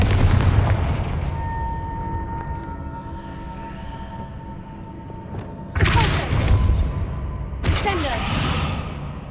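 Confringo fire-blast spell in the Hogwarts Legacy video game, with two sudden loud broadband blasts late on over a steady rumbling game ambience and music.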